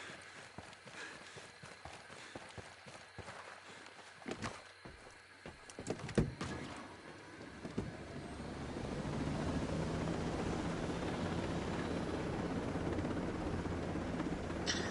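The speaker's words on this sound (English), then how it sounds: "I'll just helicopter real quick." A helicopter in the video game Ghost Recon Breakpoint runs with a steady, droning rotor and engine hum that builds in the second half, following scattered footsteps and clatter.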